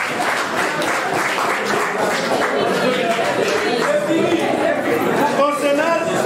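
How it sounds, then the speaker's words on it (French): Student audience at a university ceremony in Mwene Ditu applauding, a loud continuous clatter of clapping mixed with crowd chatter and murmuring voices throughout. "nous pouvons aussi applaudir"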